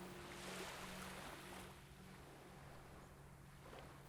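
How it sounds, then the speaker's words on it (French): Ocean waves wash back and forth on a beach in a steady, continuous surf wash mixed with wind, loud at first and then slightly softer, with no talking. "je vais vous inviter en portant votre attention sur ces vagues que vous entendez"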